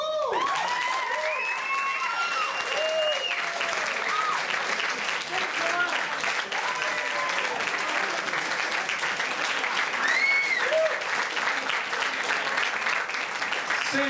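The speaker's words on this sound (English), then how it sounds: "a big round of applause" A crowd claps steadily and loudly throughout at a poetry reading at the Green Mill, with scattered whoops and cheers rising over the applause.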